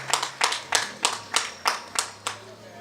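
Audience applause at a housing programme launch event, heard as a short run of about eight distinct, evenly spaced hand claps rather than a full crowd roar, fairly close and moderate in level with no talking.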